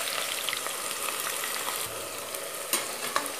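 Onions crackle and sizzle in a hot pan while being stirred, close and steady with a few sharp scrapes of the spoon, during Kerala-style country chicken biryani preparation.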